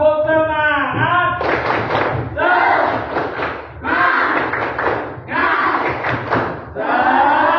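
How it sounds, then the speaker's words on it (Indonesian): A group of people performs a rhythmic warm-up clapping routine, loud and close, with bursts of clapping and chanted voices in repeated phrases and short gaps between them. "Sebelum mulai, kita tepuk dulu yang pemanasan."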